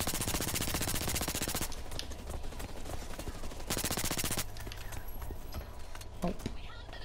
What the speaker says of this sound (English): I'm bringing out my SMG